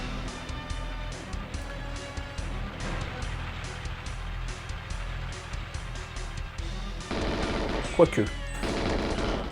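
Rapid enemy gunfire and a rumbling truck in the GoldenEye video game run together under game music, ending in a louder burst of shots while someone speaks briefly.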